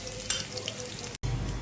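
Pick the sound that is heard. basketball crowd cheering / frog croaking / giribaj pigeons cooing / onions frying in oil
onions frying in oil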